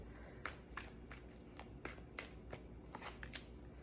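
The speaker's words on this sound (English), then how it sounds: "One more shuffle." Tarot cards riffled and shuffled in a rapid flurry of crisp flicks, close by, with a low background hum and no voices.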